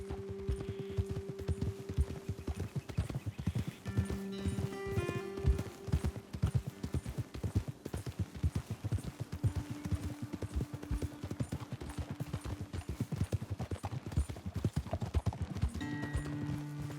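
Several horses ride at a steady pace in Red Dead Redemption II, hooves clip-clopping continuously and close, with a soft snort now and then under light game music and ambience.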